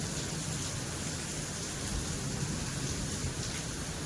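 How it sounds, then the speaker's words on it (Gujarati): Heavy rain pours at night in a dense, steady hiss that never lets up, with no voices over it. "ભાઈ વરસાદ તો જો"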